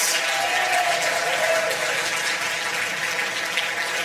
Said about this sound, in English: give yourselves another big round of applause